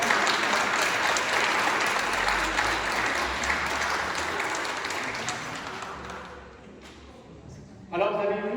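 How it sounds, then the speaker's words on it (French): A church congregation applauds at a Pentecost Mass, dense clapping that starts loud, slowly thins and fades, then a voice begins speaking at the end. "Merci beaucoup, on peut les applaudir."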